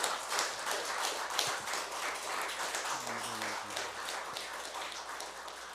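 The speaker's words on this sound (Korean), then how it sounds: "다시 한번 격려 박수 부탁드리겠습니다" Encouraging applause from the audience at an inauguration ceremony and Buddhist service, a steady wash of clapping heard from a distance in a reverberant hall, with a brief low tonal sound partway through.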